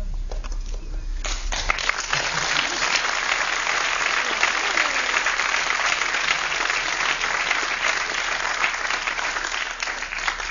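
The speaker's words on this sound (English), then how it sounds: "Now, I suppose that applause goes to Google Earth." Conference audience breaks into sustained applause, a dense, steady wash of clapping that fills the room throughout, with a brief bit of sound before it swells.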